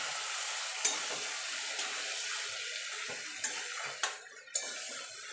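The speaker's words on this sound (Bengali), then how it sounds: "এবার দিয়ে দেবো জল ডাঁটাটা আলুটা সিদ্ধ হওয়ার জন্য।" Water is poured into a cooking pan holding drumsticks, potato and tomato, a steady close watery rush with a few soft clinks of utensil against the pan.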